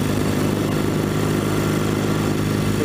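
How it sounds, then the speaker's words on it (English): A 1964 Royal Enfield Interceptor Mk1 motorcycle engine runs steadily and loud throughout, a continuous low mechanical drone with a mild rise on the throttle and no voices. "With the twist of the throttle, we get some nice torque"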